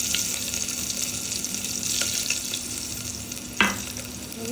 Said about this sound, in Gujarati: મરચાં નાખી દઈશું આ સ્ટેજે આપણે।